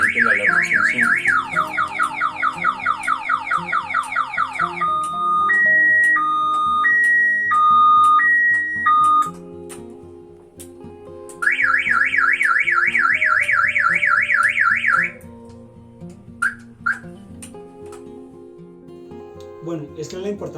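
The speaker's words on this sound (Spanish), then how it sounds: "Si damos cualquier movimiento, automáticamente la alarma se enciende." A loud electronic alarm cycles through siren patterns: rapid warbling chirps, a slow two-tone beeping, then more fast warbling before cutting off.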